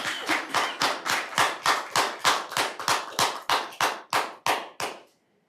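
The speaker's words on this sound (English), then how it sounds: "Aren't we not supposed to clap during the thing?" An audience clapping at a city council meeting, roughly fifteen slow, evenly spaced, fairly close claps in a steady rhythm before stopping abruptly.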